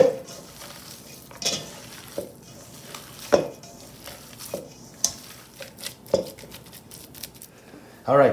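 Sticky, wet squelches and intermittent spoon or bowl knocks as a meatball mixture is stirred together with caramelized sautéed onion, irregular and close, with faint kitchen clatter throughout.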